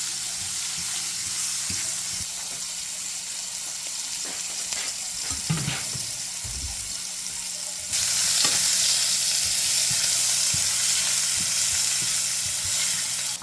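Carrots and other vegetables frying in oil for escovitch saltfish sizzle steadily, with scraping stirs and clatters in the middle. The sizzle grows louder and brighter partway through.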